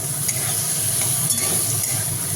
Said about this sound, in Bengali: আলু ভাজাটা একটু নেড়ে দিই।